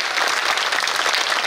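A hall audience bursts into loud, dense applause honoring two teachers, a continuous wash of many hands clapping close and steady with no voices on top.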